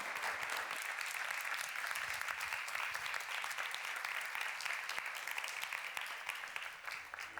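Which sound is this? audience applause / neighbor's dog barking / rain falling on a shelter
audience applause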